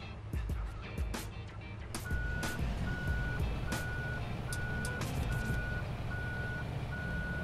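A tractor in Farming Simulator 17 reverses with an evenly spaced electronic beep repeating about every second, over a low engine rumble and scattered clunks.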